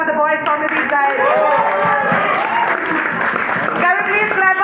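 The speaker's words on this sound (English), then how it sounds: "Please clap for the boys, Soumyadeep guys." A crowd at a Bollywood trailer launch event claps and cheers steadily, loud and sustained, with voices calling out over the applause.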